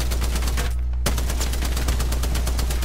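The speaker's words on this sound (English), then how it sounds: "He's hip firing that spit fire and scaring me" A Spitfire light machine gun in Apex Legends, fired from the hip, rattles in loud, rapid, continuous bursts. Shots stop briefly once, then resume at a steady, fast cadence.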